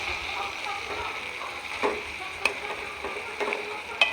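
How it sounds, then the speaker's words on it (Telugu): Gongura leaves are stirred into a simmering curry in a pan, giving a soft, quiet scraping and light sizzle with a few sharp utensil taps against the pan. "గోంగూర వేసేసి మొత్తం కలిసేలాగా"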